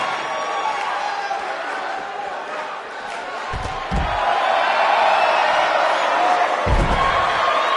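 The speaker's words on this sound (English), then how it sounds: "We have a sold-out, record-setting crowd here for BCW tonight." A sold-out arena crowd roars and cheers in the WWE 2K19 wrestling game, a dense, loud wash of crowd noise throughout, punctuated by a couple of heavy thuds or slams and swelling louder in the second half.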